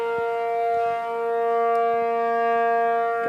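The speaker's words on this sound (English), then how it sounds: "Tornado sirens going off." Outdoor tornado warning sirens sound during a storm in Chicago, a steady sustained wail of layered pitches drifting slightly in strength, with faint scattered thumps beneath and no voices.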